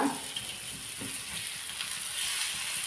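Fish tawa fry sizzles steadily in a non-stick pan, a soft, continuous frying hiss without any talking.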